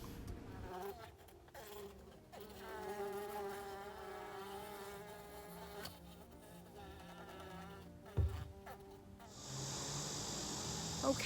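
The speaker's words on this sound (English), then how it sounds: "In this little orange box here in my kitchen, I have got my new queen and her attendants." A new queen bee and her attendant bees buzz inside a small orange box in a kitchen, a soft, continuous close hum that rises and falls in pitch, with a few faint handling knocks and a brief hiss near the end.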